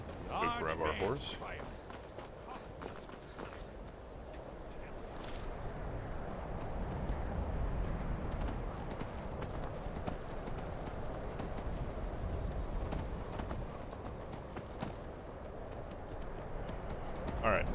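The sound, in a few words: horse galloping in video game Skyrim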